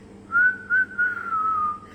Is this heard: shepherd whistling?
yes